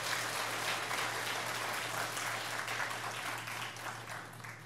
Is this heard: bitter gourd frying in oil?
no